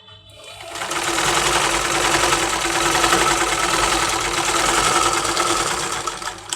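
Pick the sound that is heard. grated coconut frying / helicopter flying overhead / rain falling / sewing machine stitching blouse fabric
sewing machine stitching blouse fabric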